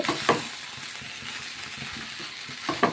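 Pieces of bitter gourd cooking in oil in a pan, a soft, steady sizzle with a few louder clinks of stirring near the start and end.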